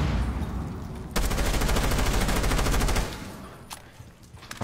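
Rapid automatic gunfire in Rainbow Six Siege, a dense sustained burst of closely spaced shots that rattles for about two seconds, then falls back to quieter game ambience with a couple of faint isolated pops.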